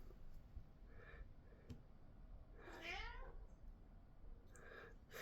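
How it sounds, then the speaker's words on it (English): Small cat meowing in the background indoors, three separate meows with the middle one longest and clearest, quiet against a low steady hum, with occasional faint clicks between. "You might have heard a little cat in the background. She has something to say as well."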